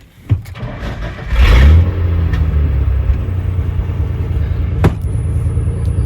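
An inline-six engine with a slight misfire, likely from a bad injector, runs close up with a steady, loud rumble, a brief rev early on and a faint sharp knock near the end. No voices.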